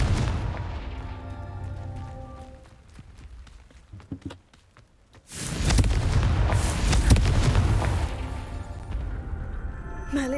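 Confringo spell explosions in Hogwarts Legacy, heavy booming blasts with rumbling tails, one rising burst after a brief lull, loud and close with no voices.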